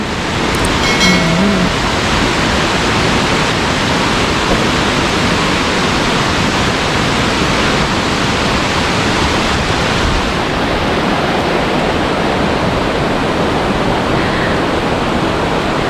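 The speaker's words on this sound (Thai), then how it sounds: "อีกสักพักเดียวก็จะเจอน้ำตกที่สวยงามนะคะ ไหลลงมาจากหน้าผานะ" Khlong Lan waterfall pouring down a cliff face, a constant loud roar of rushing water that fills the whole stretch without pause, with no talk over it.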